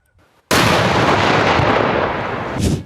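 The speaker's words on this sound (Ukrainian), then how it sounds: "Вибух!" A sudden loud explosion bursts after a brief quiet moment, followed by a sustained roaring rumble that slowly fades with a final thump.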